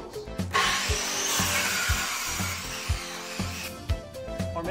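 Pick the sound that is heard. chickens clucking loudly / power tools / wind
power tools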